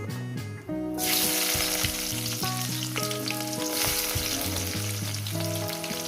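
Chopped onion drops into hot oil already spiced with whole garam masala, cumin and a bay leaf for fried rice and chicken curry, giving a loud, steady sizzle that rises sharply after a quiet start, with background music playing throughout.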